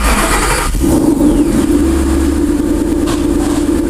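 A Ford Mustang on a test drive cranks and fires up, then settles into a loud, close engine drone that holds steady as the car pulls away.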